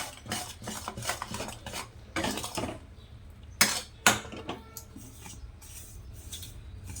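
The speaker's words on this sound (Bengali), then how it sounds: "এখন এটা নাড়িয়ে দিচ্ছি মিশিয়ে মিশিয়ে দিচ্ছি" Mango pickle is stirred and mixed in a pot with a spoon, giving steady scraping and clinking up close, with a couple of sharper knocks partway through and no voices.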